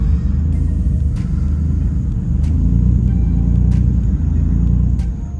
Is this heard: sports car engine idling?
yes